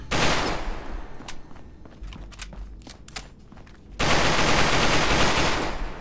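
Modded gunfire in the Fallout 4 video game: a dense loud burst at the start, then sharp single and clustered shots over a lower rumble, then another long sustained loud volley of automatic fire to the end.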